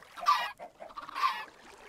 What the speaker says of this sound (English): I just got four chickens out of one egg.